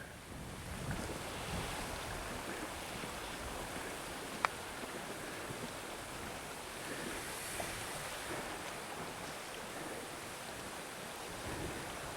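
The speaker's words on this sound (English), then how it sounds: "Broken ice flows with the water." Broken ice drifting with flowing river water on the frozen Zanskar river in the Himalayan winter, a continuous rushing, washing roar with wind over the microphone and one sharp faint tick partway through, no voices.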